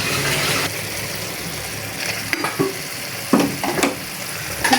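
Fish fries in a pan with garlic, a close, continuous sizzle punctuated by several sharp clatters and utensil scrapes, no talking.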